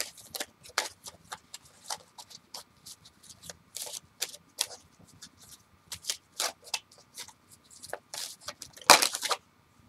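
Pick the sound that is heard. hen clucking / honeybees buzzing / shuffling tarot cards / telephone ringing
shuffling tarot cards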